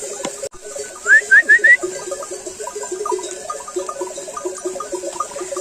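A flock of sheep bleating repeatedly, several animals calling at once in the near distance, with a short run of high chirps early on.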